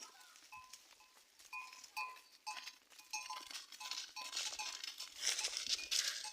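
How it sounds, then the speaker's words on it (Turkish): Sheep bleat in short, repeated calls over rustling and shuffling, fairly close, with several animals calling in turn. "Şu an Mehmet koyunlardan korktu."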